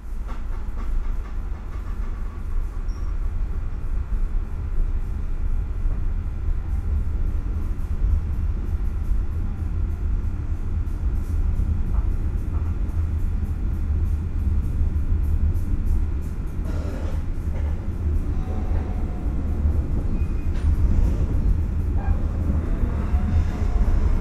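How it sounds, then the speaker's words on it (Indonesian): Pariaman Express economy passenger train heard from inside a carriage as it departs and runs, a steady loud low rumble with faint rhythmic clicking of wheels over rail joints throughout. "Kereta api Pariaman Express yang saya naiki sudah diberangkatkan"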